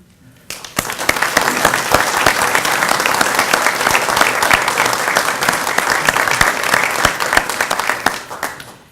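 An audience at a University of Dubuque alumni recognition brunch breaks into warm applause to welcome a guest, with close, crisp individual claps forming a lively, sustained round that tapers off at the end.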